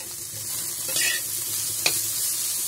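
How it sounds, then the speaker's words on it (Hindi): Radish bhujia is stirred in a pan over low heat, giving a soft continuous sizzle with a couple of brief spatula scrapes and one small knock, close and unaccompanied by speech. "सिर्फ इसको मंदा आंच में मुझे हिलाना ही है"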